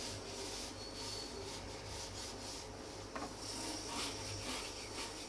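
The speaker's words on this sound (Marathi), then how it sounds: "याला हलकं हलकं लाटावं लागते असं." A rolling pin presses dough for onion kanda dhapata flatbread, giving a soft, steady rubbing and scraping against a wooden board, fairly faint and continuous with no talk.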